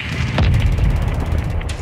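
In Modern Warfare II gameplay, an explosion destroys an anti-air team: a heavy, deep boom with rumbling low-end body that rolls on for nearly two seconds, loud and close, with no voices.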